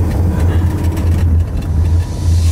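Busy multi-lane traffic in Paris, a loud, continuous close rumble of engines and tyres with a steady low drone and no gaps.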